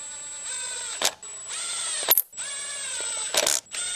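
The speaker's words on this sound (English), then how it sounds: "Now using your T30 Torx bit, go ahead and reinstall the bolts that hold down the ignition coils." A powered driver with a T30 Torx bit tightens the ignition coil hold-down bolts on a 2014 Jeep Patriot. It whirs in three short runs, each ending in a sharp clicking ratchet burst, all close up.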